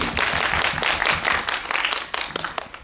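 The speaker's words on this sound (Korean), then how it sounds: "네, 박수 부탁드릴게요" At a post-screening talk for a Korean film, the audience gives a warm burst of clapping. Many hands patter steadily and fairly loudly for nearly three seconds, with a few sharper claps standing out as it fades.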